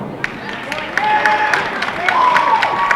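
Spectators clap at an intercollegiate singles bowling championship match, scattered sharp claps under a steady crowd murmur with tonal hum and a faint voice.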